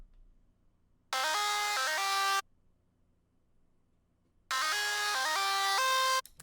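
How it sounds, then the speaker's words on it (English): A bright lead synth plays a short stepping melody over a trap-style beat, heard in two loud bursts separated by near silence, with no talking. "then you can move on to the lead noise"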